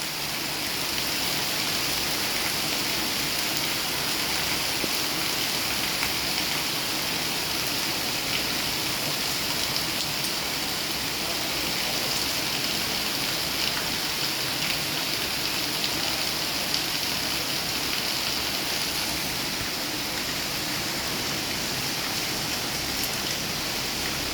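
A late-night downpour in Rajkot drums continuously on surfaces, an unbroken roaring patter that stays loud and even throughout, with no one speaking.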